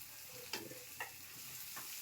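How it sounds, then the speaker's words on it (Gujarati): Chopped green chillies and onion frying lightly in a pan, with a soft steady sizzle broken by three brief scraping stirs at close range, no voices. "એને આપણે 1 મિનિટ માટે હલકી એવી ફ્રાય થવા દઈશું।"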